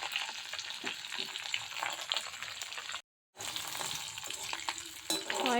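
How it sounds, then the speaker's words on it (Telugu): Curry leaves and dried red chillies fry in hot oil for a garlic tempering, giving a steady loud sizzle with crackles and a brief silent gap partway through. "దీంట్లో కరివేపాకు, ఎండుమిర్చి కూడా వేసేస్తున్నాను. ఇది ఫ్రై అవుతూ ఉంటుంది"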